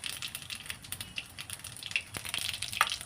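Cumin seeds dropped into reused hot frying oil for a cauliflower, potato and pea dish, giving a soft continuous sizzle with scattered small pops and crackles, close and fairly quiet.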